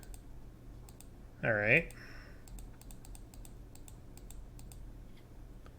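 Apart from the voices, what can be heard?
button being clicked repeatedly on computer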